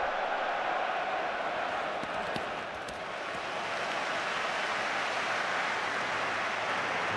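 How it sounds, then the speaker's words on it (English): A football crowd roars at an England v Croatia European Championship qualifier, a dense, steady wall of cheering and noise that holds at a loud level throughout with no clear breaks. "the crowd are doing their best to help dig England out of a great big hole"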